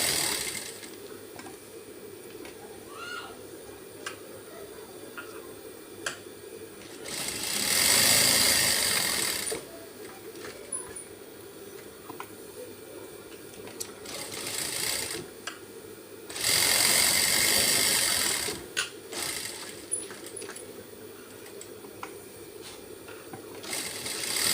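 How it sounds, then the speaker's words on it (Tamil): A sewing machine runs in two long, steady bursts as it stitches around the edge of a piece of cloth, with quiet pauses and faint handling noises between runs. "ஓரத்தில் சுற்றி நம்ம ஒரு தையல் போட்டுடலாம்"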